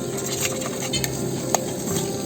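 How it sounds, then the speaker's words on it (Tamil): Masala spice powder is stirred in a hot pan for idli cutlets, a close, continuous sizzle marked by light scraping and an occasional clink of the utensil against the pan. "இந்த பொடியோட வாசனை போகிற அளவுக்கு கொஞ்சம் நல்லா கிண்டிடலாம்"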